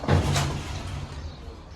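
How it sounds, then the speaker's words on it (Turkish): A sliding excavator cab door shuts with a low rumbling thud near the start, followed by a fading resonant rumble; no voices. "Kapıyı kapatayım."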